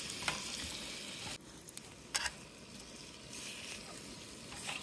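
Continuous sizzling and hissing of a whole squid grilling over a campfire at a campsite, close and steady with a few sharp crackles and pops.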